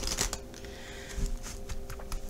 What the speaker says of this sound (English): Two more shuffles for good luck.